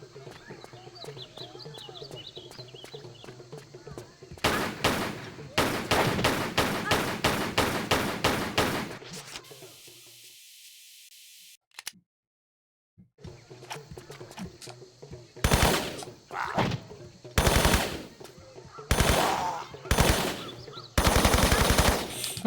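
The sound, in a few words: gunfire in the video game Tomb Raider 3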